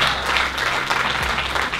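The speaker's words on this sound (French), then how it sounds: "Est-ce qu'on peut applaudir pour ce monsieur?" Audience at the Afropreneur Awards 2019 ceremony applauds a man, a steady, dense wash of clapping hands that holds at full strength throughout without pause.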